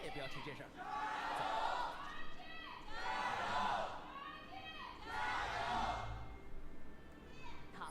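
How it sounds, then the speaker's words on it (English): A large Chinese esports crowd at an LPL League of Legends summer match roars in repeated swelling waves of cheering and screaming, loud and dense, with faint commentary underneath. "hear those crowds scream for this first game"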